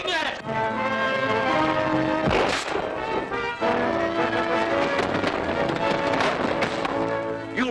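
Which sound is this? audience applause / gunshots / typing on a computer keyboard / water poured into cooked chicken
gunshots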